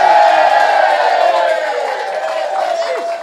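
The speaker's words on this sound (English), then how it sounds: "I'd just like us all to give a big cheer." An audience cheers and whoops loudly at a band question-and-answer event, a sustained crowd roar that slowly fades over a few seconds.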